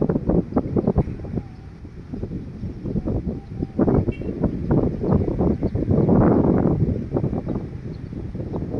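Steady wind gusting and buffeting the microphone, a rough low roar that swells and fades over several seconds.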